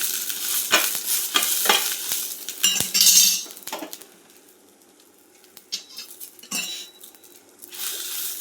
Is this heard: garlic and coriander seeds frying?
yes